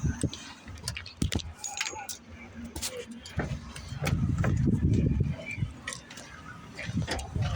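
Keys jangle and clink as the key is taken from a truck during an automatic air brake check, with sharp metallic rattles over a quiet background and a brief low rumble midway.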